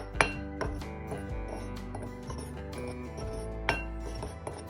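Metal spoon clinking against a bowl while masala and corn flour are mixed for paneer 65, several bright taps ringing out at irregular intervals alone.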